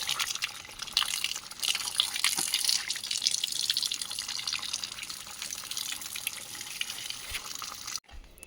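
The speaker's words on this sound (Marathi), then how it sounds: "जरा हात पाय धुवून घेतो जरा चिखलानं भरला सगळे पाय" Tap water runs and splashes steadily while muddy hands and feet are washed, a close, continuous rush with drips, cutting off briefly near the end.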